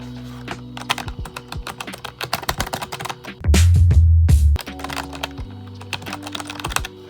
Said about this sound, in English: That was a pretty good typing session.